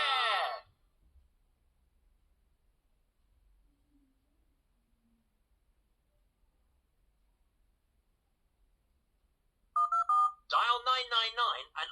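VTech toy police car keypad beeping out dialing tones, a short burst of electronic beeps at the start, then near silence before a loud electronic voice speaks through the toy's speaker.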